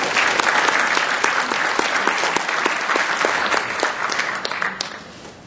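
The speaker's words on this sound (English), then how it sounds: "Give her a round of applause." A conference audience claps warmly for a panelist, a full, even round of applause with distinct individual claps, fading slightly at the close.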